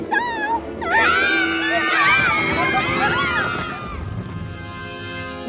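Cartoon ponies shriek and wail in terror, several high, wavering screams overlapping loudly for a few seconds before trailing off into a crowd-like commotion.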